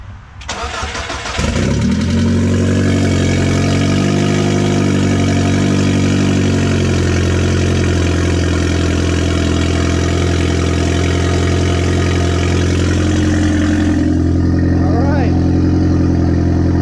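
A rebuilt Audi A4 engine cranks briefly, fires and settles into a loud, steady idle that sounds as if it has no exhaust, running close up for the rest of the span.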